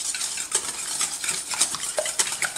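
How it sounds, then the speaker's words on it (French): Sugar being whisked into eggs in a bowl for French toast, a steady run of quick scraping, clinking strokes of utensil against the dish, close and fairly loud, with no talking. "on va commencer donc déjà de remuer dans les œufs le sucre"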